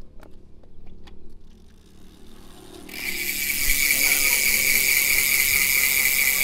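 A bicycle hub freewheel ratchet clicks in a fast, steady buzz after a few quiet mechanical taps, loud and close once the wheel starts spinning.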